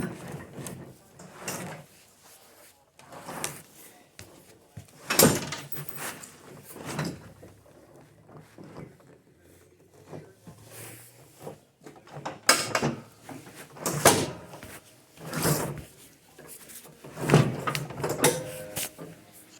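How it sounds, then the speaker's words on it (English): A 44-inch mower deck is slid off a 2005-2009 Simplicity Broadmoor 20 hp lawn tractor in a series of scraping metal shoves and clunks, some loud and close, with quieter rattling between them. "Pulling that deck off, that's pretty simple."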